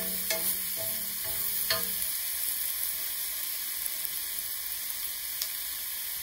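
Purple cabbage with chili and black pepper cooking in a pan, a constant close sizzle with a few clinking stirs early on, then steady frying hiss alone.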